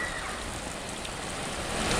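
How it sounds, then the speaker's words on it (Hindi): Heavy rain pours down during a storm that flooded roads, a dense, loud, unbroken hiss with no pauses. "ये तस्वीर आपको दिखा रहे हैं जहां पर तेज बारिश ने कहर बरपाया।"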